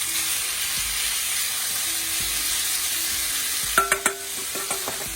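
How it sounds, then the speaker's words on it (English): Basa white fish fillets frying in a pan, a steady close sizzle with a few sharp clinks and scrapes of a utensil near the end, no talking. "So we're going to start off with frying the white fish."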